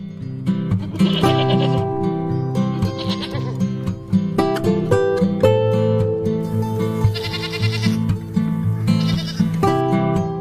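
Goats bleat repeatedly in a barn with cozy stalls as they wait eagerly for food, several overlapping calls rising and falling in a loud, busy chorus with no talking.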